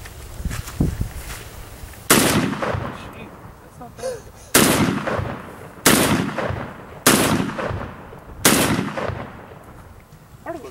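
Firearm shots at a shootout event ring out as five loud, sharp reports spaced a second or two apart, each followed by a short ringing decay over faint background noise.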